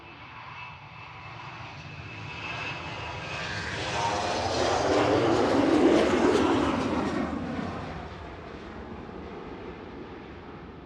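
A Finnair-liveried Embraer jet operated by Norra takes off for Helsinki, the engine roar swelling from fairly distant to a loud peak midway, then easing off as it climbs away.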